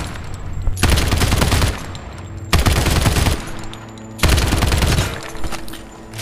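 AK rifle fire in the video game Lost Light: three loud sustained bursts of rapid automatic gunfire, each lasting about a second and a half, separated by short pauses, with no talk.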